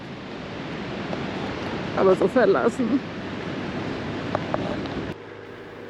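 Ocean surf breaks near a lighthouse on the Indian Ocean coast of Mozambique, a steady broad wash of waves heard close and loud throughout, with someone speaking briefly over it before the roar drops off abruptly near the end.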